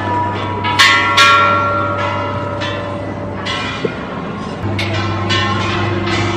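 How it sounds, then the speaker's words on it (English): A large gong at a Thai Buddhist temple is struck several times, each hit blooming into a long resonant metallic hum that carries over a faint murmur of voices. "so may malaking gong dito"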